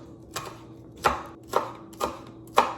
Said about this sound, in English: I'm going to chop up some green onion and some garlic.